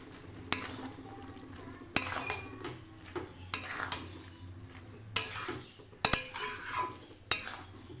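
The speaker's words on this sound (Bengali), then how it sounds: "ঢাকনাটা খুলে একটু নাড়াচাড়া দিয়ে নেব" Pot lid lifted and spinach with lentil dumplings stirred in a pan over low gas, sharp metallic clinks and clatters recurring every second or so over a faint steady simmer, close and moderately loud.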